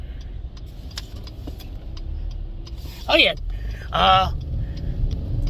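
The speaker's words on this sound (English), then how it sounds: "I'm waiting for these damn cars to pass" Two cars pass along a road one after the other, each a brief swelling whoosh that rises and fades, over a low steady background hum, with a short spoken remark.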